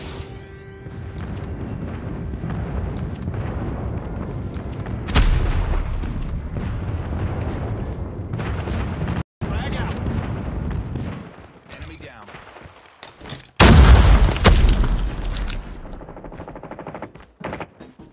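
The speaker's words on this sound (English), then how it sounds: "Friendly airstrike incoming." Friendly airstrike explosions and gunfire in the Call of Duty Mobile multiplayer video game, continuous rattling shots, then a loud heavy blast near the end, with game voice callouts over the action.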